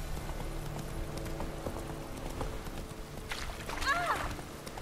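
Horse hooves clip-clopping in a steady walking rhythm while riding through a city in The Witcher 3, soft and close, with a voice talking over them and a brief brighter burst near the end.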